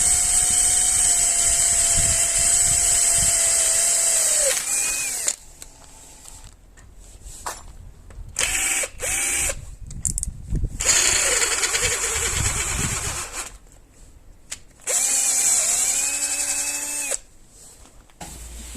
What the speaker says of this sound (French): C'est bon, j'ai percé les 2 trous, donc les 2 trous sur la platine.